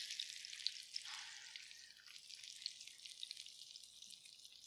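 Beef taquitos fry in hot oil, a dense crackling sizzle with sharp pops, louder at first and then settling into a steadier, softer bubbling hiss with no voices.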